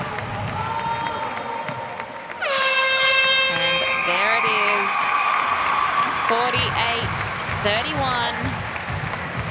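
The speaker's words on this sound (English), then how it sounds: "Cheers from the crowd for the Singapore Vanders." A crowd at a netball match in Singapore cheers and applauds after a late goal, with a loud air horn blast cutting in, then sustained noise and repeated horn toots while a commentator talks over it.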